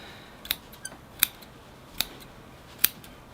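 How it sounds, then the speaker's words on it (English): Curved scissors trimming moss on a mixed bonsai forest, with several crisp, close metallic snips spaced irregularly over faint background hiss. "now I've got to come in with my curved scissors and start pruning the moss"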